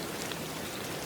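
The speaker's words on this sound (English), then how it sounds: "The rain fell without hurry." Gentle rain falls steadily in a dense, even hiss of countless drops, soft and continuous with no other sounds.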